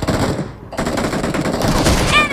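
Gunfire in the mobile battle royale game BGMI, a dense stream of rapid shots and impacts running through the whole stretch with a brief lull near the start, loud and close.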